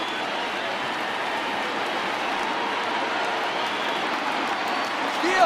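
Baseball crowd of over 39,000 on its feet at a Giants vs Yankees game, a dense, steady roar of cheering and applause across the whole stretch, swelling slightly at the end.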